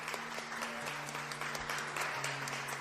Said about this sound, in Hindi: वो पूरा माहौल तालियों की गड़गड़ाहट से गूंजने लगा